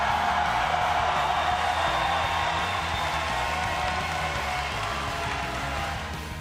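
Pokémon Worlds arena audience roaring for the Peru team, a dense continuous wall of cheering, clapping and whoops that stays loud throughout and eases slightly at the end.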